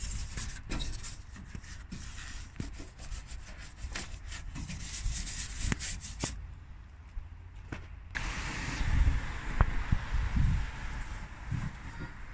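A brush agitates Surfex HD degreaser into a car engine bay to loosen grease, giving continuous close scrubbing and rubbing strokes with irregular rhythm, briefly pausing midway before resuming louder, with no voices.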